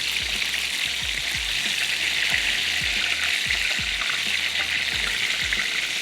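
Meatballs frying over a low flame in a pan, turned now and then: a steady, bright sizzle with soft low thumps and bubbling pops throughout, close and continuous.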